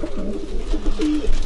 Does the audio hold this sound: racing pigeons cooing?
yes